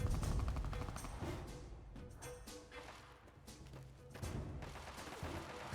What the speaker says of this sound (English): Someone's getting a bit happy with the grenades.